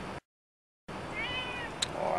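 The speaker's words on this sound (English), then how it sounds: "Not another random kitty." A cat on a farm gives a short, clear meow, then another brief cry a moment later, close by against quiet outdoor background noise.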